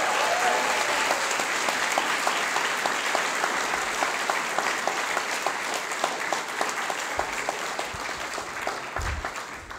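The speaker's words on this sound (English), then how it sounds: "can we give Neil a big round of applause?" Loud, sustained applause from a graduation ceremony audience, steady crowd clapping with distinct individual claps throughout, a few low thumps near the end.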